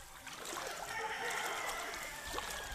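Floodwater rushing along a village street during heavy rain, a steady faint wash of flowing water heard from a distance and continuous throughout, with no talking.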